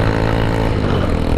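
An automatic, non-geared motorcycle strains uphill on a cast-concrete road near a border area in Java, its engine droning loudly and steadily with a rough, labouring tone for the whole moment.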